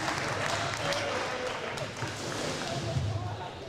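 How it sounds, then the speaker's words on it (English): Spectators in a gym at a JV basketball game give a dense, steady round of applause for the referees, with crowd murmur and voices blended in throughout. "let's give a big round of applause for our referees this evening"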